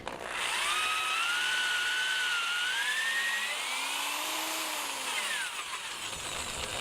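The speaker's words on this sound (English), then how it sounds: "I've got a 5/16 drill bit, and we're just going to go in near the end here." A power drill with a 5/16 bit bores about an inch into the end of a wooden board for a cat post, a loud, close, high whine that shifts in pitch as it cuts, then eases off.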